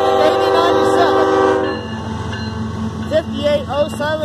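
Union Pacific 8097 freight train rolling through rural Saint Elmo, Illinois, with a loud sustained horn blast that cuts off partway, followed by rumbling rail noise and scattered voices.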